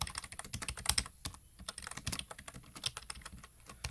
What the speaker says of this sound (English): Come on, this thing can't keep up with my lightning fast typing.